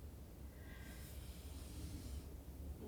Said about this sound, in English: breathing deeply into the belly